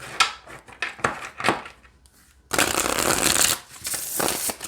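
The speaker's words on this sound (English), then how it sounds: "Let's see how they shuffle." A small Food Fortunes deck of novelty cards is shuffled by hand, with a few soft riffle bursts followed by a longer, loud crisp riffle and some lighter flicks of the cards.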